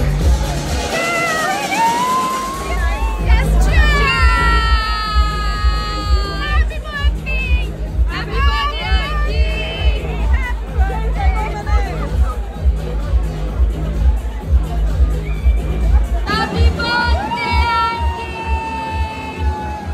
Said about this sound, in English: this place is pretty pretty packed. I mean, look at the crowd